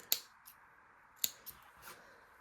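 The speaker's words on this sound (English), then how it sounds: "so I'm just going to snip that and make it even" Scissors snip the sewn fabric of a princess purse, two crisp close cuts about a second apart, each followed by a softer click as the blades open. Everything around the cuts is near silent.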